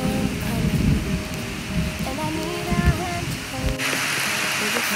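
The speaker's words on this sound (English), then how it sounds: "It's starting to rain, so we're heading into the shelters." Rain pattering steadily on woodland forts, a constant wash of drops with some creaking and knocking mixed in, and a brief voice heard partway through.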